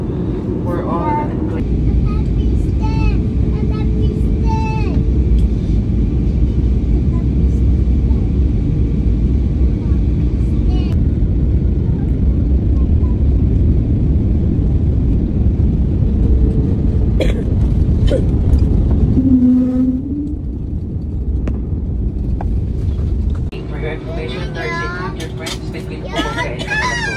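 Inside an airplane cabin during descent before landing, a loud, steady low engine and air roar fills the space, with people talking and coughing over it and a slight drop in the noise near the end.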